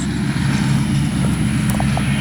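Radio-controlled B-25J warbird scale model flying with gear and landing flaps down, a steady droning engine hum holding at an even, fairly loud level throughout, with no talk over it.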